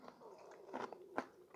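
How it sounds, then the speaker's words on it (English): Someone eating camp chili with tortilla chips, soft close crunches and chewing at an irregular pace, with a couple of sharper bites standing out against a quiet background. "I know y'all hear my crunching."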